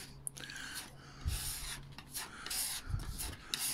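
Filler being sanded by hand on the side skirt of a hospital bed, soft rasping strokes in short bursts with brief pauses between them, close and fairly quiet, no voices.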